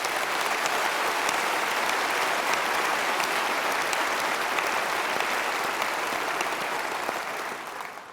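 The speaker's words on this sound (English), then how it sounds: "Please give them a big round of applause." A party conference audience at the Conservative Party Conference applauds steadily, a loud, dense wash of clapping that holds evenly for the whole stretch before easing slightly at the end.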